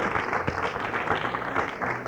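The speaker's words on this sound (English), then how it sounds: "That you can applaud for." Audience clapping at a 1974 drum clinic, a brief, steady burst of mid-level applause from a roomful of people, with no single clap standing out.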